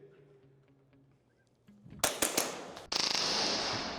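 A Novritsch SSP-28 airsoft pistol firing on full auto: after a quiet lull, a few sharp loud cracks are followed by a dense rapid burst of shots that rattles on for about a second, close up.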